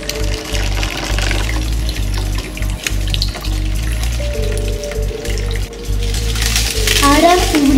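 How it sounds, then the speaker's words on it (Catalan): Dirty water is poured into a sand and stone filter, a continuous rushing, splashing flow with irregular gurgles, ending in a burst of louder sloshing and a squeak. "Ara tirem l'aigua bruta al filtre."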